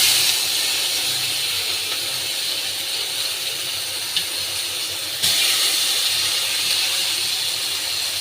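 Tomatoes go into hot oil in a pan and sizzle with a loud, steady, close hiss that surges suddenly partway through.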